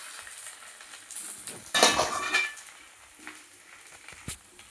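A spoon scrapes and clinks against a hot pan, spreading spicy chutney over a benne dosa frying with a soft sizzle, with one sharp burst of scraping in the middle.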